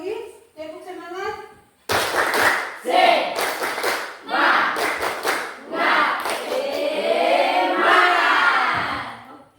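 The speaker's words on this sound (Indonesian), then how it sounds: "Ya, sekali lagi, tepuk semangat." A group of people claps a rhythmic spirit-boosting chant before a class activity, sharp bursts of clapping and shouted voices alternating in quick repeated patterns, loud and close.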